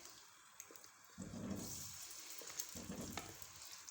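Baby potatoes frying in hot cooking oil in a pan, a soft sizzling hiss that swells in two bursts as they are stirred, fairly quiet and with no talking.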